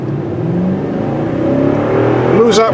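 A 2019 Toyota Sequoia's 5.7-liter V8 accelerating while pulling about three tons, a steady engine drone building slightly in intensity over a few seconds with a rising whine near the end.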